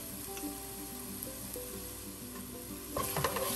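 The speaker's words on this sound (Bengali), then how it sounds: "এবার ভালোভাবে আমি মশলাটা কষিয়ে নিব মশলাটা কষানো হচ্ছে" A spice masala with yogurt, cardamom powder, garam masala and white pepper is sautéed in a pan, with a quiet steady sizzle and a burst of louder stirring and spatters near the end.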